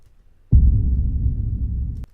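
A single deep trailer-music boom, without EQ, hits suddenly and holds as a dense low roar for about a second and a half before cutting off.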